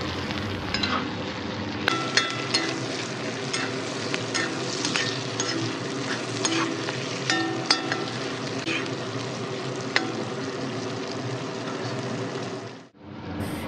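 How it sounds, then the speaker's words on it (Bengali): Onion and prawns stir-fry with salt in a pan, giving a dense, continuous sizzle with occasional utensil scrapes and clicks, close and steady until it cuts off near the end, no voices. "পেঁয়াজ চিংড়ি ভালোভাবে নেড়েচেড়ে মিনিট 2 মতো ভেজে নেওয়ার পর"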